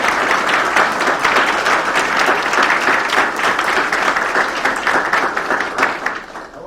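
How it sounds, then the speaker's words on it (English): A large audience at a 2019 El Reno meet-the-candidates event breaks into dense, sustained applause for candidates and office holders, a loud, even wash of clapping that holds steady for several seconds and then tapers off slightly at the end. "can I get you all to give a round of applause, not just these four people, but to everybody who serves in these offices"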